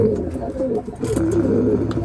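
A pigeon coos nearby in low, throaty, repeated phrases, with faint chirps from other birds in the background.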